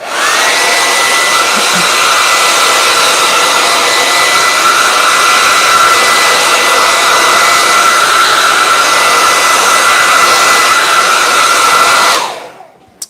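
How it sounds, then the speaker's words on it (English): A hair dryer blows loud and steady at close range for about twelve seconds, then cuts off abruptly. "I'm going to give this a little drying with my hairdryer, so turn down your volume."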